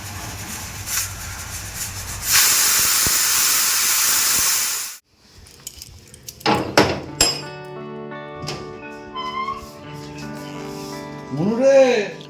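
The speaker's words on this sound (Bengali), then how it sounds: "এবার দিয়ে দেবো প্রেশারে সিটি দিতে হবে" A pressure cooker holding mutton in gravy lets out a loud, steady hiss of steam for a couple of seconds before it cuts off abruptly, followed by light clinks and a voice talking nearby.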